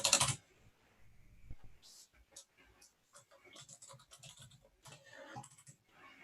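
Rapid clicking of computer keyboard keys in a home coding session, irregular bursts of keystrokes at close range mixed with faint breathing and small movement noises.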